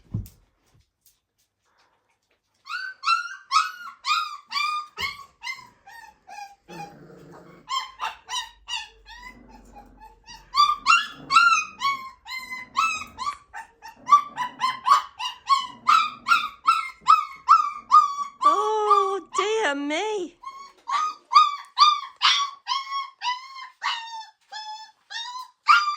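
Puppies in Bulgaria whimper, yip and bark close by while being fed, a long run of high-pitched, rapid cries in quick bursts after a quiet start; a voice is heard briefly.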